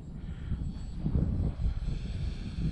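Small SIG Four Star 20 electric RC model airplane coming in to land on a runway, its motor a faint low rumbling whir, with wind buffeting at the microphone.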